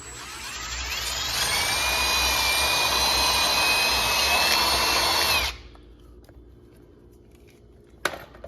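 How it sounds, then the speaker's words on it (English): A power drill whines steadily for about five seconds while drilling out a rivet hole in the foot of an Xtend+Climb ladder, then stops abruptly, leaving quiet with a brief clack near the end. "So you want to drill out this hole right here where you put the"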